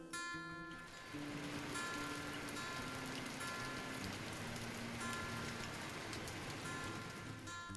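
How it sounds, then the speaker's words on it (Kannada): Light drizzling rain falls steadily, a soft even patter of drops on surfaces, faint and continuous without a break. "ಸ್ವಲ್ಪ ಮಳೆ ಡ್ರಿಸಲ್ ಆಯಿತು ಅಷ್ಟೇ, ಜಾಸ್ತಿ ಏನಿರಲಿಲ್ಲ"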